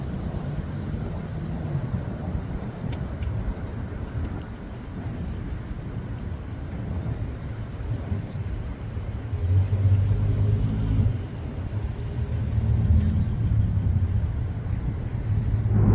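A manual-transmission BMW A90 Supra with the B58 engine reverses with its door open, giving a steady low engine rumble with some wind buffeting, growing slightly louder midway, with no chime or talking.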